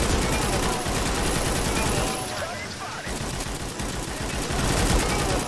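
American gunfire in the AWOL video game, loud sustained rapid automatic bursts that pause briefly midway and then resume, with a voice talking over the shooting.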